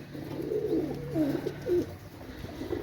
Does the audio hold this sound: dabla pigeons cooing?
yes